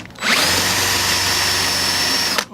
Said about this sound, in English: we're just going to now use a drill bit just to mark in where we need to drill our holes.